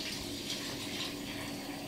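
Water pours steadily in a soft, continuous splashing stream, fairly quiet and close, with no voices.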